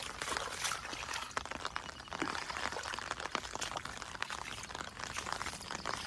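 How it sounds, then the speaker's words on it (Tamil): Rain falls steadily onto open water on a farm, a dense even patter and splash that carries on without a break for the whole stretch, soft and fairly distant. "தண்ணியில் தெரியும் விழுறது, மழை விழுறது."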